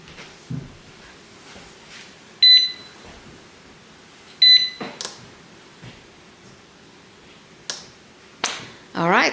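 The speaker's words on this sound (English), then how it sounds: "we'll see what time it is when it beeps to tell me it's done cooling" Presto Precise electric pressure canner sounding short electronic beeps at about 2.5 and 4.5 seconds, each a quick cluster of bright tones, with quiet room noise, taps and handling sounds around them.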